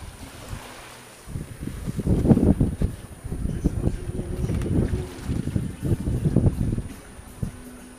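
A sailboat under sail at sea in brisk wind, with a steady rush of wind and water washing along the hull in swelling surges, close and fairly loud, no talking.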